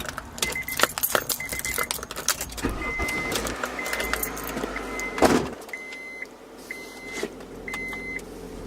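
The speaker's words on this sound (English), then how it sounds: "I'm going to go ahead and turn my car on, and it'll tell me that it is connected." Car keys jangle and click in the ignition as a car is switched on, followed by electronic beeps repeating in a steady pattern and a brief louder thump midway, all close inside the cabin.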